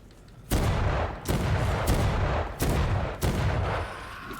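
Four heavy gunshots from a handheld firearm in the video game Vampyr, fired at an uneven pace roughly a second apart. Each is a loud, close boom with a long rumbling tail, and no one speaks.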